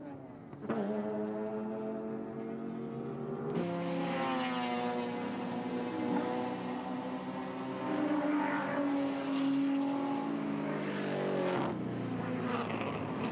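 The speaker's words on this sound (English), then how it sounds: "There is the Group A BMW going through, car number 62" A Group A BMW touring car, number 62, races past at Bathurst during the James Hardie 1000, its engine a loud sustained drone whose pitch climbs through gear changes and dominates the whole passage.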